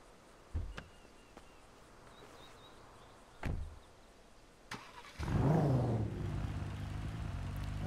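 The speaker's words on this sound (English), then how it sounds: "The idling sounds extremely weird." A police car in a modded GTA V game: a few sharp door clunks spaced apart, then the engine cranks and settles into a loud, steady idle that runs to the end.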